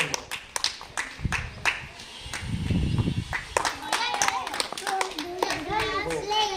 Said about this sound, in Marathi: टाळ्या द्या तुम्ही बाकीच्यांनी